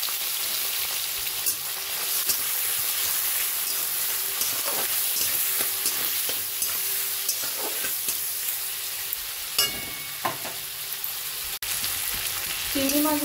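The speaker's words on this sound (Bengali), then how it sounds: "এদিকে কড়াইতে তেল গরম হয়ে গেছে। এবার আমি চিংড়ি মাছগুলো দিয়ে দেবো" Small shrimp frying in hot oil in a wok, seasoned with salt and a little turmeric, giving a steady close sizzle throughout with occasional stirring clinks and scrapes; no talk.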